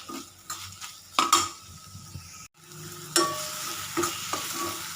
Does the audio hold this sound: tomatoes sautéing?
yes